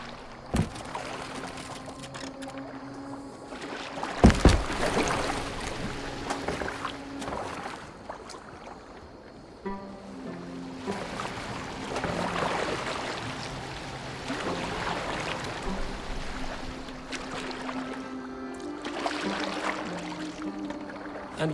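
Boat gliding over water in the Assassin's Creed Valhalla video game, a steady wash of splashing and lapping water with rhythmic oar-like surges, layered under a low sustained musical drone and occasional sharp knocks.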